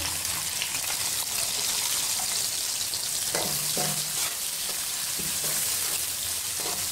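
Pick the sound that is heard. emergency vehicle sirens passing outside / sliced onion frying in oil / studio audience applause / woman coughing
sliced onion frying in oil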